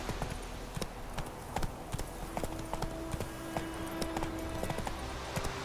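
Roach the horse galloping in The Witcher 3, steady rhythmic clip-clop hoofbeats close and moderately loud over low ambient game sound and music.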